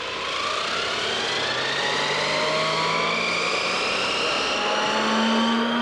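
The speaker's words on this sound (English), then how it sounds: "So that's the noise of an electric race car there." A steady, loud electric motor whine with rising pitch sweeps, the high-pitched hum building as the vehicle accelerates, with broadband road and wind noise underneath.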